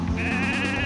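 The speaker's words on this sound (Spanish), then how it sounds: "Ah, la oveja negra." A charred black sheep in the video game Mother 3 gives a single loud, wavering electronic bleat that lasts about a second.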